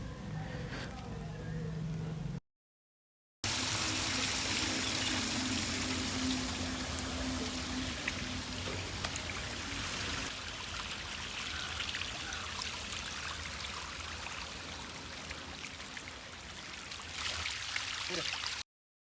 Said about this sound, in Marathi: मंदिराच्या चहूबाजूने सुंदर असे पाण्याचे कारंजे बसवले आहेत.